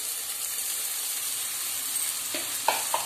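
Soaked poha sizzles softly in a hot pan under a steady hiss, with a few light scraping stirs near the end, close up.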